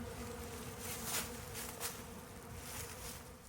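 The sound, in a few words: honey bees buzzing around hive entrance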